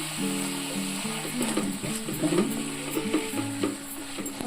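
Brinjal and onions sizzle and crackle steadily in a hot pan, a close, continuous frying hiss with a few stirring scrapes and no talk.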